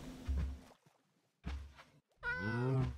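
A cat in Minecraft gives a few short, soft mews and then a longer, rising and falling meow, with silent gaps between them.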